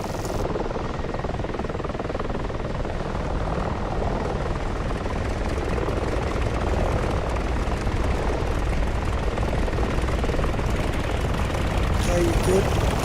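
A helicopter engine spinning up in the DCS flight simulator, a continuous loud whirring turbine and rotor drone building steadily over the whole stretch, with a voice talking over it intermittently.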